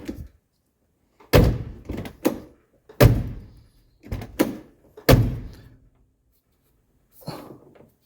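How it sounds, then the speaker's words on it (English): A series of solid clunks and thunks from a 1982 Mercedes 300D door lock mechanism locking and unlocking, several in quick groups, close and fairly loud, with no speech. "Now we can lock the door, unlock the door."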